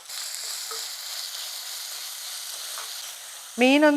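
Chopped onion goes into a hot pan, bringing a steady, moderate frying hiss for several seconds, then a short tonal sound that rises and falls near the end.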